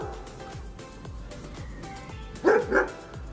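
A large guard dog, a breed developed in the USSR as a working dog, gives two loud, close barks over a steady rhythmic background beat.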